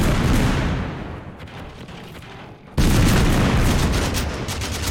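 A grenade explodes in an online shooter game, a loud, dense burst of booming blast noise that fades and then surges again abruptly amid continuous battle rumble, with no talking.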